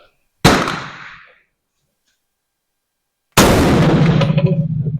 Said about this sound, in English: I'm still shooting the same target till I get it where I want it